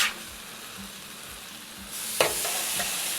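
Venison and vegetables for fajitas sizzling on a flat top griddle, a steady hiss with a spatula scrape, jumping to a brighter, louder sizzle as more food hits the hot surface.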